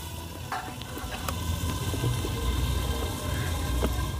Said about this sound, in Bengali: আর এই আলুটা বেশ কিছুটা সময় ধরে ভাজতে হয়, যতটা ভাজা ভালো হবে